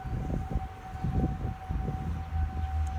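Outdoor tornado warning sirens sounding during a scheduled test in Boone County, Illinois, heard as a steady, distant wail that hangs over low outdoor rumble and wind.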